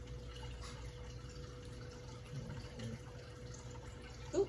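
Glidden Premium base paint being poured during an acrylic paint pour, a steady low liquid flow with faint trickling under a constant background hum, no talk.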